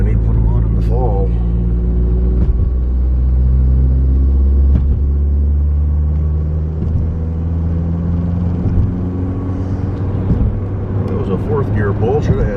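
A car engine pulling hard in fourth gear on an everyday commute, a steady loud low drone with rising harmonic tones as it accelerates, a few clicks and cabin noises over the rumble.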